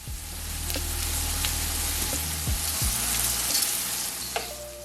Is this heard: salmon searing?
yes